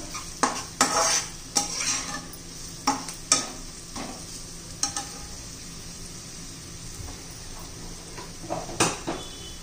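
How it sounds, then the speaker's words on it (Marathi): Onion-garlic masala and asafoetida being stirred into hot oil for a sprouted moth bean curry, with a low steady sizzle under repeated sharp scrapes and clinks of a spoon against the pan, close and alone. "हा कांदा लसूण मसाला, हिंग, सर्व आपण तेलामध्ये मिक्स करून घेऊया."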